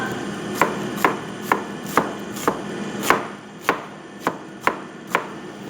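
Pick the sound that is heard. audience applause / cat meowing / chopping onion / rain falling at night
chopping onion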